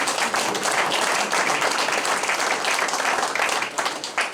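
Sustained, dense applause from an audience at a French municipal gathering, steady and loud throughout with no pauses.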